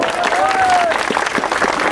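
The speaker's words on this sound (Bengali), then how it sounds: "হাততালি দেব।" Audience applause rolls steadily through a football tournament prize ceremony, a dense wash of clapping that holds for about two seconds, with a thin whistle-like tone rising over it briefly and voices mixed in.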